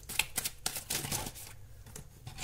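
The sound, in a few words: tarot cards being shuffled and drawn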